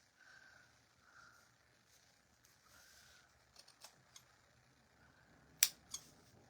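Scissors snip through fabric for a homemade Christmas stocking, a few quiet crisp cuts spread out, the sharpest and loudest closing near the end against a hushed room.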